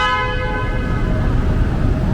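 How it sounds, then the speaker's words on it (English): A sustained car horn blares steadily close by, layered with other tonal honks over the rumble of street traffic near Grand Central in New York City. "This is where you get the most car horns honking."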